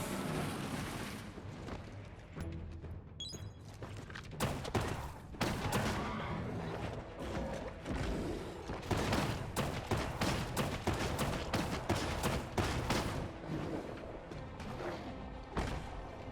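A rifle fires repeatedly during combat in the Biomutant video game, sharp cracking shots in rapid irregular bursts mixed with thuds and crashing impacts, sustained and loud throughout with game music and effects layered behind.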